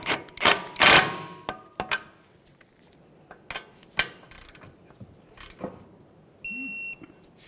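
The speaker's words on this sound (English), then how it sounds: "Snug it up, torque it to 32 foot-pounds." A wrench tightens the upper ball joint nut on a 1994-1997 Honda Accord, producing scattered sharp metallic clicks and ratchet-like ticks with quiet gaps between them, then a short electronic beep near the end.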